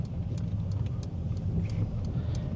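A car on a Glasgow driving test route in Shieldhall drives steadily, slowing under light braking as it turns left, with a continuous low engine and road rumble throughout.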